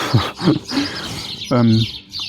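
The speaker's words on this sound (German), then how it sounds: "die Vögel sind schon schwer aktiv, die Spatzen heute" Sparrows chirp outdoors in quick, bright bursts, fairly close and lively, with a voice-like sound briefly mixed in.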